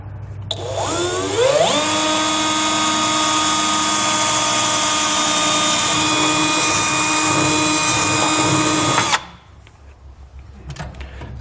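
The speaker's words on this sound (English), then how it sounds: "we want to drill that 3/16 pilot bit all the way through the bed" A power drill with a 3/16 pilot bit, drilling through a truck bed, spins up to a loud, steady high-pitched whine and holds it for several seconds before cutting off abruptly.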